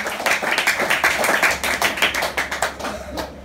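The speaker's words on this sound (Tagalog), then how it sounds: "Ayan, pumalakpak na sa labas." Church congregation clapping during a sermon, a dense run of sharp, fairly loud hand claps that continue steadily throughout without any talk.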